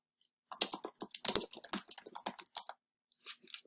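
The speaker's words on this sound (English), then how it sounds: "once you start typing, let me see if this works" Rapid keyboard typing, a burst of close clicking keystrokes for about two seconds, then a few softer taps after a pause.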